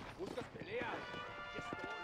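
A horse clip-clops along in Red Dead Redemption, quick rhythmic hoof beats under voices talking nearby.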